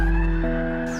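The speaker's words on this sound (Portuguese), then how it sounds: "Esse barulho que vocês estão ouvindo é da sirene da Defesa Civil." A loud, sustained civil defense warning siren wails with steady tones that shift pitch partway through, sounding close and continuous.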